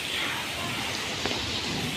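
Heavy rain pouring down hard in a dense, steady roar of drops hammering surfaces, loud and continuous throughout, with no talking.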